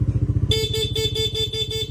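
A motorcycle idles with a steady chugging putter, then a plain, bright horn blares continuously over the engine, loud and close.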